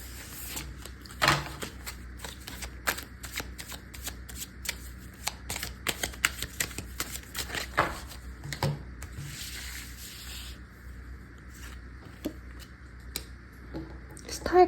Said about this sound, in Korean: 어떤 일이 있으실지 한번 카드로 뽑아보도록 하겠습니다